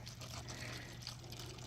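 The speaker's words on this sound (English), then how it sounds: "and then just start pouring your antifreeze in" Antifreeze pours through a funnel made from a cut plastic bottle into a vehicle, a soft steady liquid trickle, faint and continuous, with no talking.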